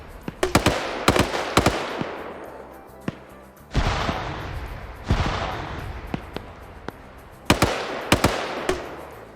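Gunfire in a military video game crackles in bursts of rapid, sharp shots, with several heavier booming reports that echo and decay, loud and close, and no voices.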